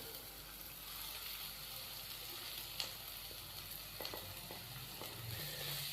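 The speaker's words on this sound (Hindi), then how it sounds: "चिकन को भी हम अच्छी तरह इन मसालों के अंदर फ्राई कर लेंगे।" Chicken fries in a pan with spices and green chilies, a faint steady sizzle with occasional soft stirring clicks and scrapes and no talking.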